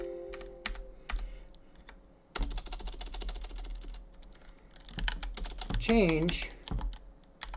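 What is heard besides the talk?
typing on a computer keyboard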